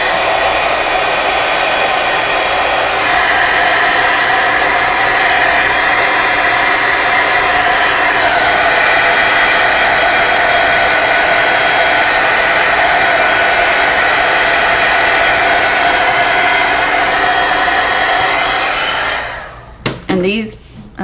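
Hair dryer blowing steadily and loudly up close to dry dimensional paint over stencils, a continuous whooshing roar that cuts off abruptly near the end.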